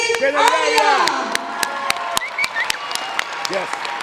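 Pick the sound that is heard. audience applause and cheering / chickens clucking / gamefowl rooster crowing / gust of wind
audience applause and cheering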